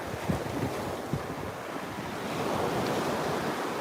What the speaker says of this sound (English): Yes, the surf is just perfect, isn't it?